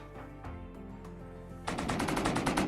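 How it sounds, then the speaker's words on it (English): Rapid machine-gun fire from automated turrets in a video game, a dense continuous stream of shots that starts partway in and stays loud, preceded by quieter single thumps and background game tones. "Look at those turrets go."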